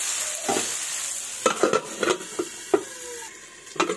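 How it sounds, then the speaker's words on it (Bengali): Fish curry being stirred in a pan of hot oil: a steady sizzle runs underneath while a spatula scrapes through the pan in several close, separate strokes. "এবার ভালোভাবে নেড়ে নেব"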